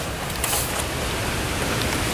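Rain falls outdoors beside a 2015 Kia Optima under repair, a dense, steady hiss of drops that stays loud and even throughout, with no talking.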